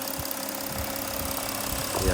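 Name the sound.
Porsche Cayenne 3.0 V6 diesel engine running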